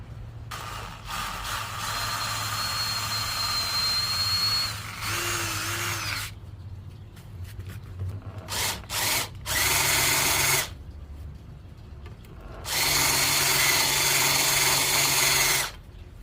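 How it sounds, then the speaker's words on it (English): A power drill drives 3/4-inch flathead stainless steel screws through an aluminum floor in a Sprinter van conversion, with several whining runs of varying length separated by pauses, some short bursts, and a pitch that rises as the motor spins up. "screw through here and countersink so that the screw head will be flush with the aluminum."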